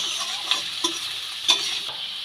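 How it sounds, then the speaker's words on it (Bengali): Capsicum and mixed vegetables being stirred in a pan make a steady frying hiss with a few sharp spatula taps and scrapes, close by and without talk. "খুব ভালো করে মিশিয়ে নিলাম"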